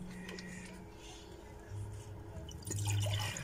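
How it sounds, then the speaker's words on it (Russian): Liquid from a carton is poured into cups for children in quiet, faint trickling bursts that grow a little louder toward the end, heard near and alone. "И вот разливаю теперь деткам."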